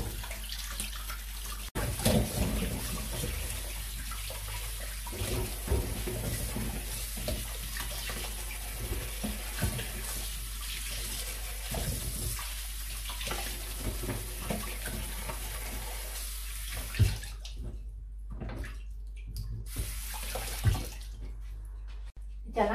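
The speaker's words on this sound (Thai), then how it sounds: "เฮาก็สิมาล้างเขาผ่านน้ำอีกครั้งนึงได้จ้ะ" Carrots being rinsed under a running tap, a steady wash of flowing water continuing close by for most of the stretch before thinning into brief splashes near the end, with a voice talking over it.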